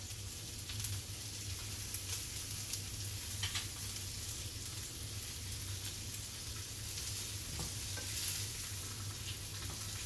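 Lamb loin chops sear in a hot pan, giving a steady close crackling sizzle with scattered pops throughout and no voices.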